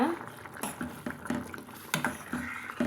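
An eggplant tamarind curry bubbles in a pot after several minutes of cooking, with soft irregular pops and plops, faint and close, under quiet talking.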